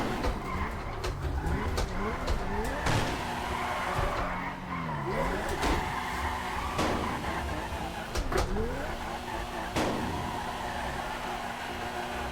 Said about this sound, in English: So just do some like little drifts here because I'm like throwing just mad angle on it.